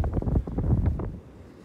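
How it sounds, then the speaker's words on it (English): Wind gusts across a beach on Whidbey Island, Washington, rumbling loudly against the microphone in a short burst that eases off toward the end, with no talking. "It's pretty windy and the tide's been pretty powerful, lots of churn going on"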